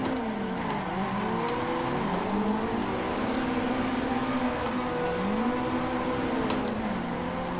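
Simulated drift car engines in Assetto Corsa, running tandem on the Ebisu Touge course, rev and wail steadily with rising and falling pitch sweeps as the throttle is worked, continuous and loud with no talking.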